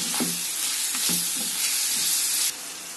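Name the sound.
stirring tomato curry with turmeric and salt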